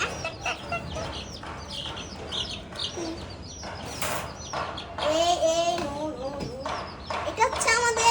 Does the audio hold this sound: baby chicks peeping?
yes